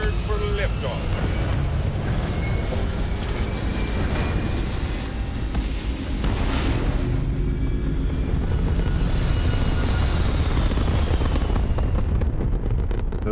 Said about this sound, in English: We are cleared for liftoff.